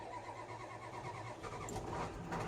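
Pickup truck engine cranking and catching in the Farming Simulator 22 video game on the Elk Mountain, Wyoming map, a fairly quiet mid-pitched start that settles into a low running hum, with no talk.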